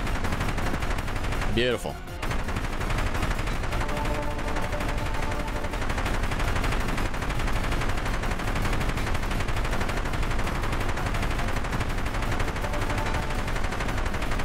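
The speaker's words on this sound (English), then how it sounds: "Airstrike's doing its thing." Repeated explosions and gunfire rumble from a periodic jet fighter airstrike in a helicopter video game, dense and continuous with a sharp whooshing burst early on, while someone talks briefly over it.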